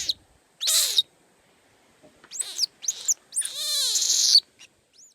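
A bird gives alarm calls signalling another bird close by: short, high, sharp whistled notes in separate bursts, then a longer buzzy call, clear and close against silence.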